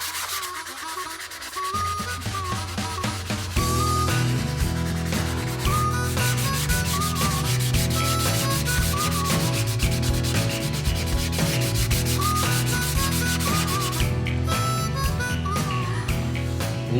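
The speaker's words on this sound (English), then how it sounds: "I'm going to sand the center part the most" Sandpaper rubs back and forth over a flamed alder guitar body in steady, close, repetitive strokes, scratchy and continuous over a musical backing.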